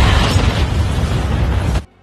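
A loud, dense roaring blast that holds steady for almost two seconds and then cuts off abruptly into quiet.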